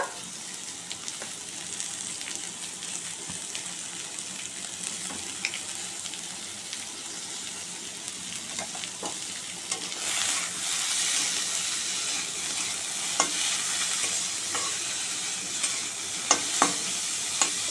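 Boiled bottle gourd peel fries and is stirred in a pan with salt and turmeric, a steady sizzling hiss broken by scattered scraping clicks of the spatula, close and alone.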